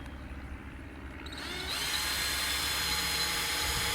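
A power drill drives screws through a Stratford mailbox post sleeve into the 4x4 post inside, its whine starting faintly and then jumping to a loud, steady high-pitched spin up close.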